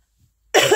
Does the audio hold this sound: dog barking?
no